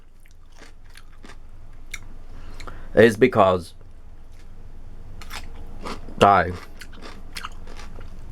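Homemade refrigerator pickles crunched and chewed in two crisp, close bursts of biting, with a person speaking briefly in between over a quiet room.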